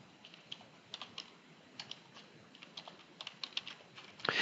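Soft, quiet keystrokes on a computer keyboard as a password is typed, irregular taps spread over a few seconds, close and faint with no talking.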